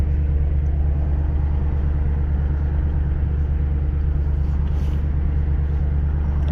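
A 2003 Audi RS6 with its 4.2-litre twin-turbo engine runs after starting, giving a steady, loud, low idle rumble that holds unchanged throughout with no talk.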